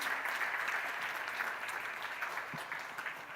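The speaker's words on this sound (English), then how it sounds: "let's give a huge round of applause to all of our winners this evening" Audience at a management awards ceremony applauds the winners, a steady sustained wash of clapping across the hall, fairly distant and even throughout.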